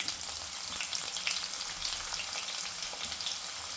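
Dried red chillies and onions fry in hot oil with chana dal, mustard seeds and cumin for tomato dal, giving a steady, close, bright sizzle that crackles throughout with no voices.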